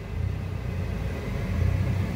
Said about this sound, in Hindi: जैसे मैं गाड़ी को ऑन करता हूँ एंड गाड़ी के एसी को ऑन करता हूँ, तो इसका जो आरपीएम है वो फ्लक्चुएट होने लगता है